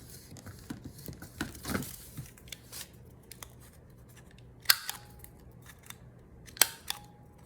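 A small corner rounder punch bites through paper a few times, giving sharp, quiet clicks and snips with soft rustling of paper between them.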